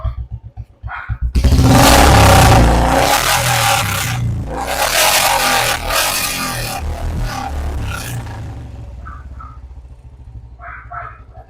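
A Royal Enfield Classic 350 with a long Punjab silencer idles with a low putter, then revs hard into a loud roar that holds for several seconds before easing back toward idle.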